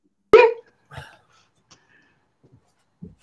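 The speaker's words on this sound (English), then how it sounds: "You're trying to hide the dog." A dog gives a single sharp bark, close and loud, followed by a few faint softer noises and short gaps of silence.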